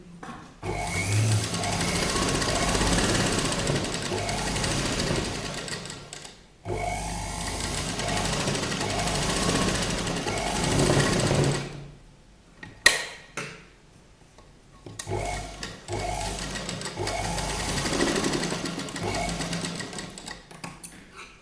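Domestic sewing machine stitching a collar neckline, running in long steady bursts with brief pauses between seams as the fabric is turned at corners.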